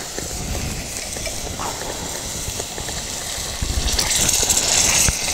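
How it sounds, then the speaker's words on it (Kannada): Water poured into sizzling masala in a pan while cooking a prawn ginger onion curry, a steady frying hiss and crackle with soft clatter, growing a little louder toward the end. "ಸ್ವಲ್ಪ ನೀರು ಹಾಕ್ತಾ ಇದ್ದೀನಿ ನಾನು"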